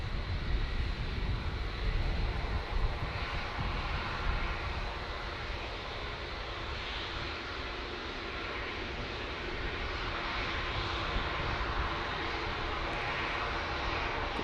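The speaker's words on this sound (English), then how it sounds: "we've got a Dreamliner coming in from Tenerife South" A TUI Boeing 787-800 Dreamliner jet airliner arriving at Manchester Airport from Tenerife South produces a steady, broad roaring engine rumble with a high whine, sustained and fairly loud throughout with no talking.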